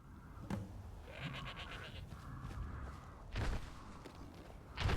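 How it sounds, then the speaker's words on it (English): Goat bleats from a video game, two or three short wavering cries mid-clip over a steady background hum, with a few thuds near the end. "There's my goat."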